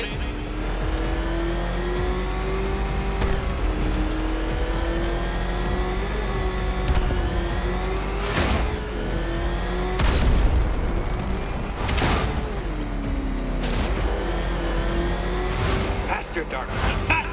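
Batmobile racing in the video game Batman: Arkham Knight, a continuous loud engine roar with repeated revving surges and sharp impact bursts, heard under a voice speaking.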